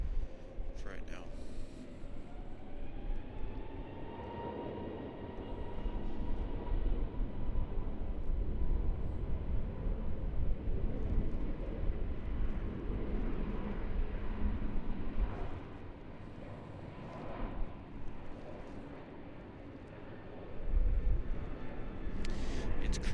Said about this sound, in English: It's the wind blowing through these metal